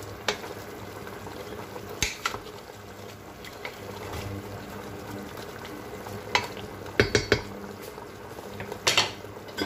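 Chicken pieces browning in a pan for a pastilla give a low continuous sizzle, broken by occasional sharp clinks and scrapes of utensils against the cookware.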